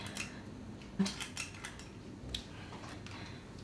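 Blueberry muffin batter is spooned into paper muffin cases with a few light clinks and taps of the spoon against the bowl. The sounds are quiet and spaced out over a soft background hush.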